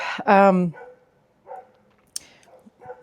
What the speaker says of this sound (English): I don't know if you can hear them barking or not